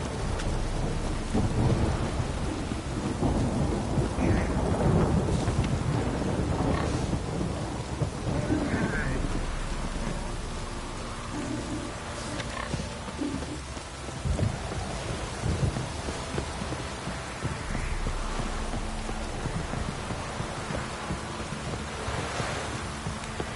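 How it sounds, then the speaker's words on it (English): Heavy rain pours steadily in The Witcher 3, with rolling thunder rumbling loudly through the downpour for a long stretch. "This downpour's a bastard, it is."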